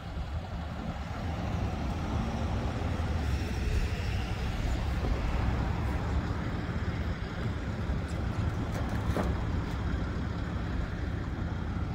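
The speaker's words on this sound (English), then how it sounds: "And we got a bus coming." A bus rolls past in street traffic while mobile storage containers are unloaded, giving a steady, fairly loud broadband rumble of engine and road noise through the whole stretch without a clear peak.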